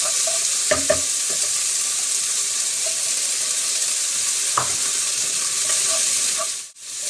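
Onions frying on a high flame for fried rice with beef, a steady loud sizzle throughout with a few sharp stirring scrapes, no talk.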